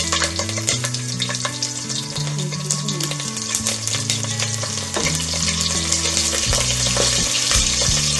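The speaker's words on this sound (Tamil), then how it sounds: "சோம்பு, எல்லாம் போட்டு தாளிச்சுக்கலாம்" Fennel seeds crackle and sizzle in hot oil in a pan, tempering for a paneer mushroom pulao, a steady close frying hiss with sharp pops and a metallic stir or two.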